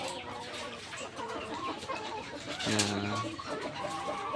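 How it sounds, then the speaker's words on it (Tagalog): An egg-laying hen clucks in short repeated notes after feeding against a steady outdoor background, with one louder drawn-out call near the end. "Yan guys yung manok na nangingitlog."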